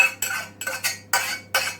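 A metal spoon scrapes steeped lemon and lavender pulp from a strainer into a bowl, giving four separate scraping strokes with a clink on each and brief pauses between them, close and fairly loud.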